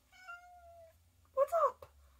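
A pet cat meows up close, first a long drawn-out tonal call, then a pair of quicker, louder meows after a pause, in a quiet room.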